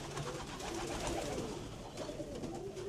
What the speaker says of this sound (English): Also a racing pigeon being fostered.